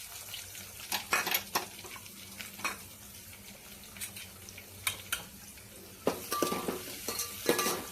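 Onions and curry leaves frying in oil in a pan for a whole masoor lentil curry: a low sizzle punctuated by sharp metallic clanks and scrapes of a spoon against the pan, irregular and close, with no speech.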